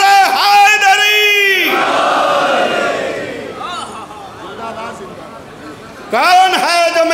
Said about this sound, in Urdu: دونوں ہاتھ بلند کر کے کہیے نعرہ حیدری۔